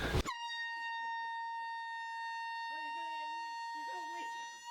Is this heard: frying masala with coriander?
no